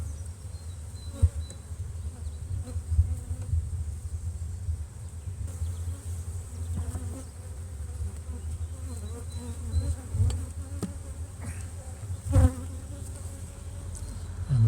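Honey bees buzz around an open, overwintered brood-and-a-half hive, a soft continuous hum with occasional louder passes as individual bees fly close.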